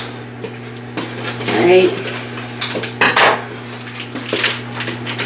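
A spoon stirs broccoli and ham macaroni in a metal pot, giving repeated close scraping, clinks and clatters against the pot over a steady background hum, with one brief spoken word.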